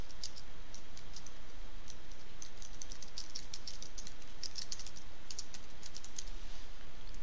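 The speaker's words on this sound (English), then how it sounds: "I'm going to type that in." Computer keyboard being typed on, rapid continuous clicking keystrokes close up over steady background hiss, no talk.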